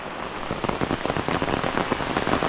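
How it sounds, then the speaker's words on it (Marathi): Steady heavy rain in a Konkan village, pattering on a surface, a dense, continuous wash of drops with no voices. "नुसता पाऊस"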